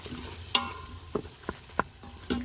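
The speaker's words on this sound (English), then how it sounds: "We're just gonna saute it until fragrant" Spices sautéing in an Instant Pot for a rendang spice paste, a soft sizzle with a few sharp scrapes and clinks of a utensil, brief and close.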